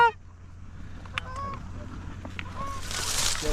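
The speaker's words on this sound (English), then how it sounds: "These are little geese." Small geese honking during an early-season goose hunt in Pennsylvania, several scattered calls at moderate distance over a low steady rumble, with a burst of rushing noise near the end.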